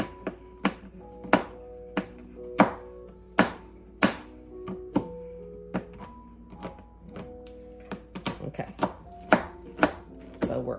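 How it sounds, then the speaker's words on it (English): A knife chops a block of chocolate on a cutting board for a homemade chocolate pie, with sharp, close thunks at an uneven, steady pace that speed into quicker clustered strikes near the end. "So we're gonna get this all chopped up because this is what's gonna make all that chocolatey goodness"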